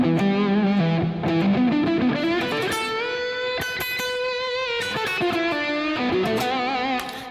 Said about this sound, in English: So that's the Vi Legacy Drive pedal from Carvin,